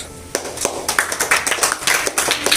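A group of schoolchildren clapping for a classmate: a burst of quick, uneven hand claps, close and fairly loud, starting after a brief quiet moment and continuing steadily to the end.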